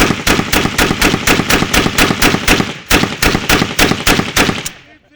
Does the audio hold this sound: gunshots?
yes